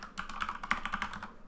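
Fingers type a quick run of keystrokes on a computer keyboard, about a dozen soft clicks close by and fairly quiet, with no talking.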